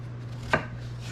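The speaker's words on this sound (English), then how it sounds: "I am gonna cut this in half because these are exceptionally long. But I'm gonna make my dices" A single crisp knife chop through zucchini on a cutting board, short and close, over a low steady hum.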